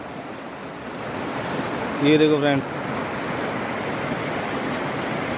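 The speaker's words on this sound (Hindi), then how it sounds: "देखो पानी कितना ज़बरदस्त चल रहा है यहाँ पे" A river rushes strongly near riverside cottages in a steady, broad roar of flowing water. A voice speaks briefly partway through.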